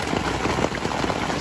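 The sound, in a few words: rain falling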